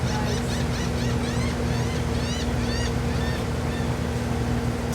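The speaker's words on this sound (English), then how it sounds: "the sound of the seagulls brings me back to being on the Jersey Shore as a kid" Seagulls call repeatedly in short, rising cries over the steady hum of a water taxi engine and lapping water during a cruise off Fort Lauderdale, Florida; the birds sound moderately close and come in clustered bursts.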